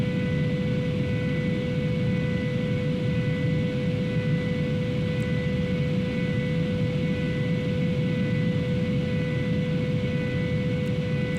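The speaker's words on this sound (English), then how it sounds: "That sound is now new after the update, where if the descend is a bit steep, it sounds that way." Concorde in Microsoft Flight Simulator during a steep descent, giving a steady, loud, unbroken roar of engine and airflow noise with a constant tonal hum, sustained throughout with no talk.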